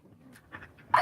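Dog panting close up in short breathy bursts with faint whimpers, quiet at first and then a louder huff at the end, with no talking.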